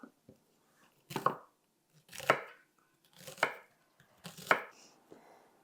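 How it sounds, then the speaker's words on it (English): A kitchen knife dices sliced vegetables on a board for a one-skillet chicken Alfredo sloppy joe meal, with four crisp, evenly spaced chopping strokes close up and quiet gaps between them. "we'll turn them around and run the knife through them to get nice dices"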